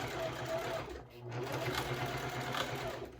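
A sewing machine stitches through thick fabric for a wristlet bag, a steady whirring drone with a brief pause, while someone talks over it.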